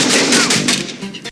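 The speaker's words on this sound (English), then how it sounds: "Nico and his partner show up and a gunfight ensues." Gunfire from a shootout in the 1988 action film Above the Law, with a quick, loud burst of shots and sharp reports over a noisy scene, all packed into roughly a second.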